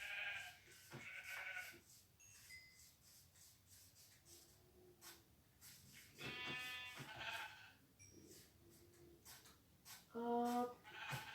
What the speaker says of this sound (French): Là, on a 3 jolis moutons.